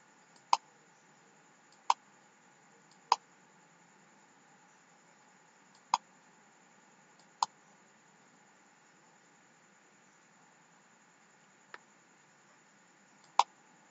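A computer mouse button clicks sharply about eight times at irregular intervals, close and isolated over a faint steady hum with no talk.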